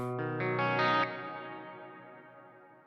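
Several bass guitar notes in quick succession through a Walrus Audio Bellwether and a big hall reverb, heavily processed and swelling, then a long reverberant tail fading slowly.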